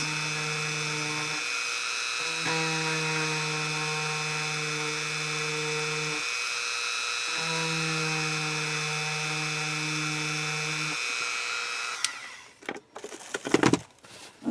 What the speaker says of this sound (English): it's easier for me to hold the Dremel still and turn my piece